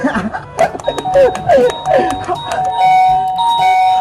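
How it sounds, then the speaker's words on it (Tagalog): A bright electronic doorbell chime rings with a tinkling melody, then holds a sustained tone, with voices and laughter mixed in. "Pipindutin ko yung doorbell nila lang paulit-ulit, tapos magtatago ako!"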